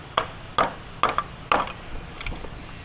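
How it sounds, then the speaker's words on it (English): A Jeep JK in-tank fuel pump rod is struck with small vice grips against a table edge, making four sharp metallic whacks about half a second apart, close and alone, followed by faint rattling. "we're gonna do is hit it with some little vice grips, and we're gonna put it on the edge of the table"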